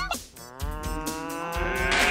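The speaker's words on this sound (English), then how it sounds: "Moo to you too, cow babies." Cartoon cows on a farm give a long, drawn-out moo that rises and sustains over background music, loud and close.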